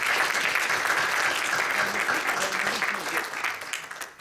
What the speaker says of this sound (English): So I think we should all just give them a round of applause.